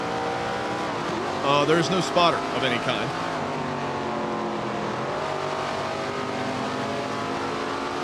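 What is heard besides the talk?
race car engine in video game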